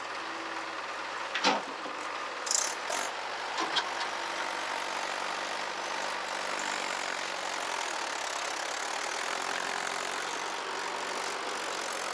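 Mahindra Bhoomiputra 475 DI tractor engine idling right after starting, a steady low diesel rumble with a few clunks and knocks early on before it evens out.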